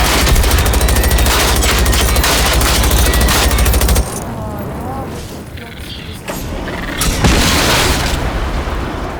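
Sustained automatic fire from a KVM-89 squad automatic weapon in the Generation Zero shooter game, loud and dense for the first few seconds, then thinning into scattered booming shots and echoes, with a voice talking over it.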